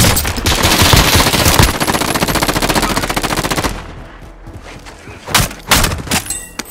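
Rapid automatic gunfire in a squad-based video game rattles loud and continuous for several seconds, then breaks into a few scattered shots and impacts.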